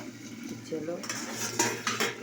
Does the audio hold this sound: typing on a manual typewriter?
no